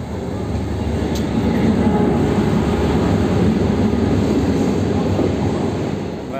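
A train at Shantir Bazar railway station gives a steady, loud, broadband rumble that holds evenly throughout, with a brief high squeal near the start and no clear speech.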